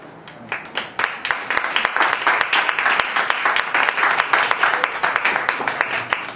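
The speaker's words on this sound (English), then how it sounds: "Please give another round of applause for Bill S." An open mic night audience claps steadily and fairly loudly for a performer, with dense overlapping hand claps running the whole time and no voices standing out.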